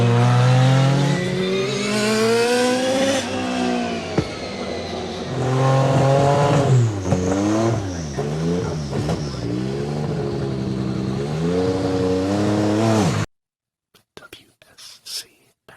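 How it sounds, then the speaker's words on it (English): A Porsche WSC 95 race car engine revs loudly and close, its pitch climbing and falling in repeated surges for about thirteen seconds before cutting off abruptly. "The Porsche WSC 95."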